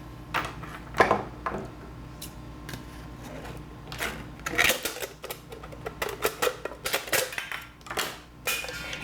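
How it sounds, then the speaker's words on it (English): A can is being cut apart, giving an irregular series of sharp clicks, snips and metallic crunches, some in quick bursts and others spaced apart, fairly close with quiet gaps between. "we're going to go ahead and start by cutting the can"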